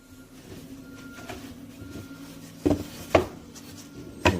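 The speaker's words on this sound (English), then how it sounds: "I cut the pieces away just to get rid of some excess wood more quickly." Wood being carved into a duck shape, soft rasping scrapes and rubbing strokes close up, with a few sharper knocks or cuts toward the end, quiet and without speech.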